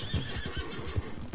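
A horse neighs in Red Dead Redemption 2 Online, a close, loud whinny with a few soft hoof clops, heard alone for under two seconds.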